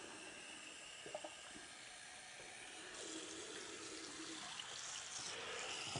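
Water from a bathroom sink tap runs in a steady hiss, growing a little stronger partway through as things are rinsed, with a few faint knocks and no talking.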